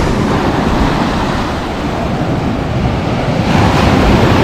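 Sea waves break on the beach at Lazarevskoye in Sochi, a steady, loud wash of surf that goes on without a pause, with wind rushing across the microphone and no voices heard.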